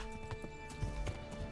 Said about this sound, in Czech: Tady jsou koně, tady mi to bude jak hovno.